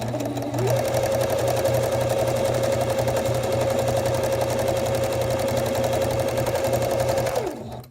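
A sewing machine stitches a quarter-inch quilt seam for a pinwheel quilt, running in one steady, loud, unbroken hum for about seven seconds before winding down.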